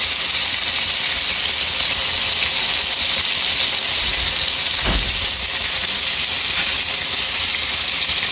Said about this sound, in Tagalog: Ayan po, nagpiprito na po tayo.